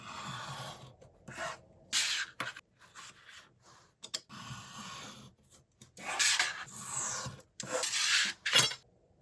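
A craft knife slicing through paper while trimming a handmade envelope: repeated short scraping, rasping strokes close up, broken by brief pauses, with no talking.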